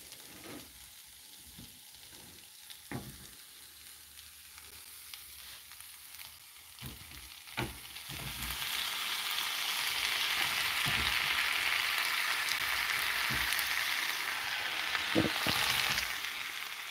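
Seasoned food, with visible black pepper, hits a hot pan and sizzles. A few sharp clinks come first, then steady frying builds and holds fairly loud, and no one speaks.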